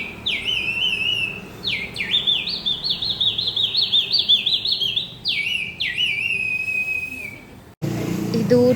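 A bird-call whistle toy chirps in repeated bright warbling trills, several loud bursts separated by short pauses, clearly imitating birdsong.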